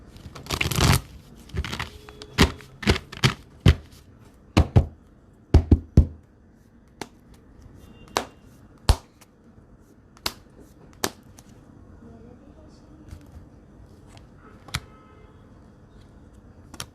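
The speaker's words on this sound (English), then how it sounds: "Shuffle, because long time I have not shuffled my card properly." Tarot cards shuffled during a live reading, a series of sharp snapping and riffling bursts, dense at first, then sparser single taps and flicks spread over a long, otherwise quiet stretch.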